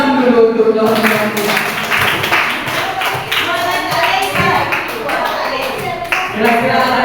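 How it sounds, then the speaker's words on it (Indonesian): Classmates at a teachers' training session clap together in a loose burst of hand claps, mixed with chatter and voices talking over it, close and fairly loud. "tepuk tangan dulu untuk teman-teman."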